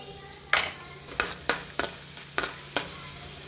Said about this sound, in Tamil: சுண்டாக்காவை போட்டு பொரிச்சு எடுத்துக்கலாம்